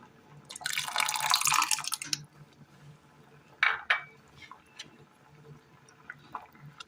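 Squeezed tamarind water pours and splashes briefly into a pan, followed by a few faint clinks and drips in an otherwise quiet kitchen.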